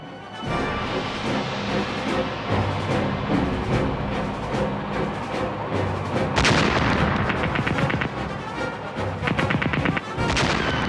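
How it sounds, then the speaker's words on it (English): Gunfire from a World War I A7V tank battle: repeated sharp shots and heavy booms rattle through a dense, continuous battle din, with a louder cluster of blasts near the end. "Finally, they spotted the enemy, halted, and opened fire."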